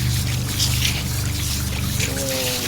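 Cold water runs and splashes outdoors while a spiral tie-dye tee in red, navy blue and lemon yellow is rinsed, a steady loud rushing stream with a low hum underneath.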